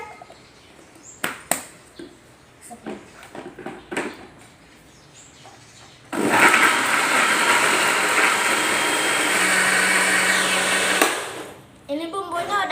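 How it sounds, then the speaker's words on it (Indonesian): A kitchen blender grinds a spice paste with coriander and bilimbi sour fruit for a coconut-milk crab curry, starting abruptly with a loud steady whir that runs several seconds before cutting off, preceded by clinks and handling noises. "Kita tutup dan kita blender."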